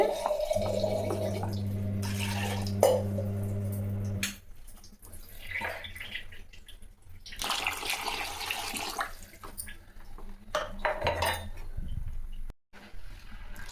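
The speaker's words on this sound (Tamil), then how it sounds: "தேவையான தண்ணி ஊற்றிங்க" Water poured from a tap into a cooking pot while making kurma, a steady splashing stream with a low hum, then clinks and trickling in the kitchen that grow fainter and more broken.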